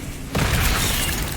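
Bombarda blast spell cast in Hogwarts Legacy: a brief lead-in breaks into a sudden loud, broad explosion that keeps roaring and rumbling to the end, close and heavy.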